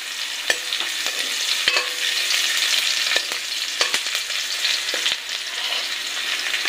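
Onions dropped into hot leftover fish-frying oil in a kadai, a loud, steady crackling sizzle with occasional sharp ticks and pops of stirring, close and continuous throughout.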